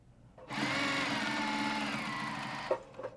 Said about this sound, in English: So we're going to sew with 1/4 inch real quick.